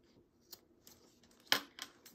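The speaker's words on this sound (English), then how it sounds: "We're going to trim off the excess off the sides of our zipper" Scissors trim the excess fabric off the sides of a zipper in a sewing project: a few quiet, crisp snips, with one sharper cut standing out, in an otherwise quiet room.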